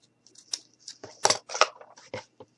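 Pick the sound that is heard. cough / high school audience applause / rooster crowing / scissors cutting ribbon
scissors cutting ribbon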